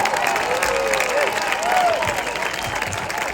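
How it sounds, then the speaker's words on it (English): Crowd applauding and cheering at the final of the 2025 Soldier Hollow Classic sheepdog trial, a steady broad wash of clapping throughout, with a few whistle-like tones rising over it early on. "The crowd is about to erupt."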